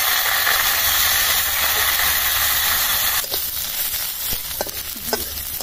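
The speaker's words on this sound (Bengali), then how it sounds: "আমি খারকন পাতাটা ভেজে নেওয়ার জন্য তেল দিলাম। খারকন পাতাটা আমি ভেজে নেব।" Kharkon leaves dropped into hot oil, a loud steady steaming hiss and sizzle that suddenly eases into quieter crackling with occasional pops and light stirring clicks.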